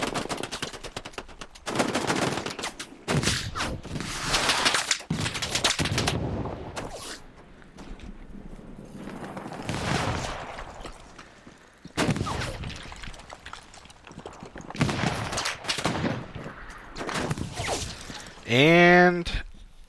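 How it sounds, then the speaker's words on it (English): Gunfire in the World War II shooter game Hell Let Loose, with bursts of loud rifle and machine-gun shots and distant battle noise, while a player talks over much of the action. "trying to at least get some suppressing fire"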